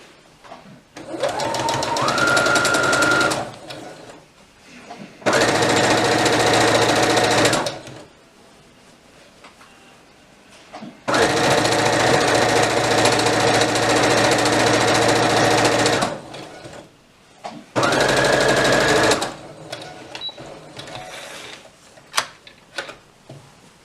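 A sewing machine stitches a hem on a toddler's elastic-waist dress, running in four long loud bursts separated by short pauses, with a rising whir as each run starts.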